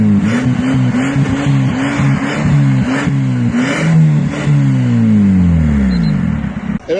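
A car with a modified, illegally loud aftermarket exhaust revs hard and repeatedly, the engine note climbing and falling in rapid bursts before a long sustained rev that slowly winds down, loud and close throughout, stopped during a police crackdown in Mersin.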